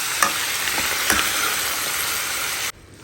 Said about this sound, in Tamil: ஸோ இப்போ இது நல்லா வந்து சாட் ஆகட்டும் ஒரு 4 to 5 minutes.